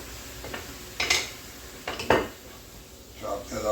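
A utensil chops and scrapes food in a pan on a cheesesteak cook over medium-high heat, with a few sharp metallic knocks and clinks spaced unevenly against a faint sizzle.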